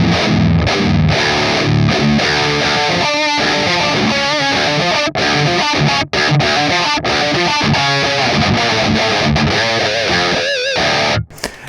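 Heavily distorted electric guitar run through a Kemper Profiler on a Nollie 5150 rhythm profile, chugging palm-muted rhythm riffs with chordal stabs that play loud and continuous before cutting off briefly near the end.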